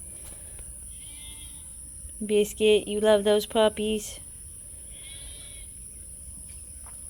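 A bottle-fed baby lamb on a rainy, muddy farm lets out a loud burst of several quick bleats close by, with a person talking briefly before it and faint background noise around it.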